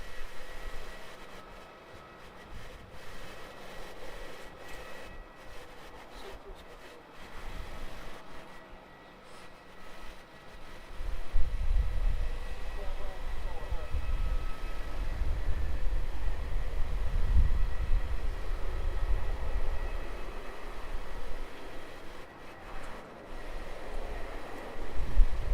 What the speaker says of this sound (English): Runway 34 cleared for takeoff